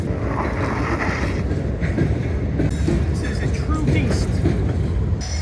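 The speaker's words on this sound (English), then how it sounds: "Another train passing us." A train passes during an eBike ride, its rumble and rhythmic clatter mixed with heavy wind buffeting on the microphone, loud and continuous throughout.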